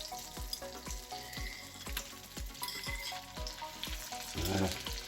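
Scallops searing in butter in a hot pan over fairly high heat, a steady close sizzle and frying crackle running throughout with no talk.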